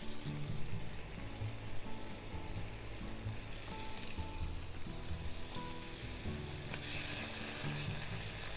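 Butter, soy sauce and garlic paste sizzle in a hot frying pan, a steady close crackling fry that holds through the whole stretch with no voices.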